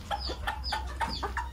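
A mother hen clucks repeatedly to call her chicks while being fed ration, a run of about six short, rhythmic clucks at close range over a low steady background hum.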